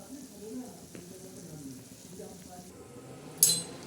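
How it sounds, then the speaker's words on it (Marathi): Low bubbling and simmering of a spicy vada curry in a pan, a steady soft sizzle with a brief metallic clink near the end. "चांगले उकळत आहे"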